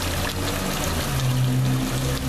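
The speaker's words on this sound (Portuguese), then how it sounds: "deixar sair aí um pouco dessa aguinha azulada aí, parece que tá saindo" Bluish coolant water pours out of a 2010 Peugeot 207 1.4 8v engine in a mechanic's shop, a continuous close gushing and trickling wash with no voices.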